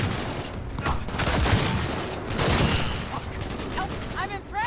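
Rapid gunfire bursts crackle through a Cyberpunk 2077 firefight, loud and close, with dense overlapping shots and mechanical clatter while voices shout over the action.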